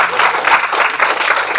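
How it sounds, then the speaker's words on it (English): Audience applause at a live youth performance event, a steady dense wash of many hands clapping close and loud throughout, with no voices rising above it. "Round of applause for all our performers."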